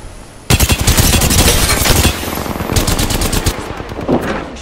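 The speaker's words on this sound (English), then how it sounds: "Shots fired in their hit range." Rapid automatic gunfire in the video game Apex Legends, loud and close, one sustained burst of quick shots starting abruptly and continuing with brief gaps to the end.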